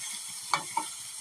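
Pasta frying in a pan, a steady soft sizzle with two brief scraping stirs standing out near the middle, heard up close with no talking.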